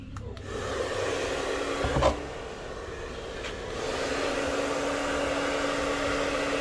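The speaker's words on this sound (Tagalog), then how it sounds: "heat gun" A heat gun blowing hot air to loosen paper labels stuck on a plastic drum: a continuous loud, close whooshing drone with a brief knock partway through, holding steady throughout.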